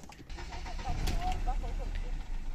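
An old car engine converted to EFI with an aftermarket ECU cranks briefly and catches, settling into a low rumble close to the microphone, with a person speaking over it.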